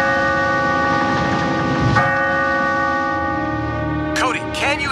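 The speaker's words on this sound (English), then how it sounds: "Dad, we found the settler's bell. Can you hear it?" A bell rings with a sustained metallic tone and shimmering overtones, struck again partway through, while a voice calls out briefly near the end.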